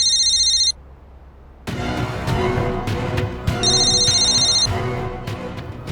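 A telephone rings in two short electronic bursts, separated by a pause filled with rumbling, clattering background activity, ringing loud and close.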